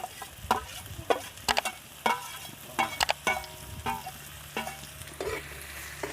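Potato pieces and bhatghila flowers frying in a pan make a steady sizzle up close, with frequent sharp clacks and scrapes from stirring in an irregular rhythm.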